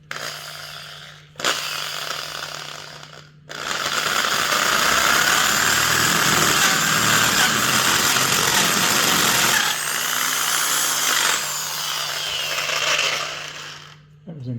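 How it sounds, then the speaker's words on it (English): A power drill bores into a cast iron vise in a short burst and then a long, steady, harsh grinding run, close and loud, with brief pauses between. "let's drill this thing out and see what we get"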